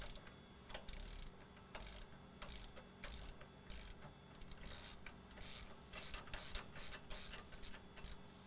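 Ratchet loosening the passenger-side shock bolts on a truck during a leaf spring shim kit install. Quick, steady ratcheting clicks run continuously, faint and somewhat distant, with no talking.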